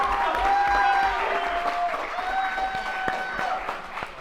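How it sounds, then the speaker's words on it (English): An audience at a college esports competition claps for the winning team, a dense burst of applause with cheering, while a host talks over it. "Please give them a hand."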